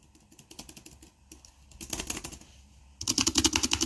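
Typing on a Razer gaming keyboard, a quick run of soft clicky keystrokes that grows louder and brighter near the end, with a space bar among the presses, recorded close with no voices.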